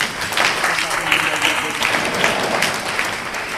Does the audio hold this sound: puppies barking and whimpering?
no